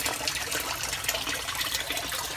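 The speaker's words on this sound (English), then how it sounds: "it sends the water back out." Water from an aquaponic system in Sacramento, California gushes and splashes steadily as the pump returns it to the fish tank, a continuous close rushing pour with no voices.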